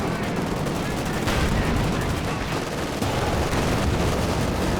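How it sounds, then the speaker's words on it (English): A 105 mm artillery barrage rumbles in a Company of Heroes 2 match, with dense, continuous booms and crackling impacts filling the whole stretch at steady loudness. "Got the 105 artillery coming down."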